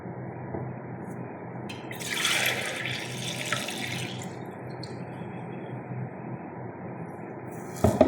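Water from fermented injera batter pouring off into a sink or basin, a steady running splash lasting several seconds with a brighter gush partway through and a clatter at the end, with no talk.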